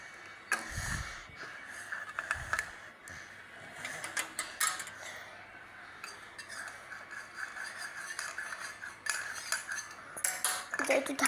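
Metal pots, cutlery and a lid clatter in a home kitchen as rice is being set to cook, several sharp clinks and knocks scattered over a steady background hum, fairly close.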